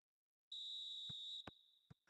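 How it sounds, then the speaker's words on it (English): A referee's whistle in an eFootball 2026 match blows one long, loud, steady blast, followed by a few short thuds and taps. "Into stoppage time, whistle due any moment."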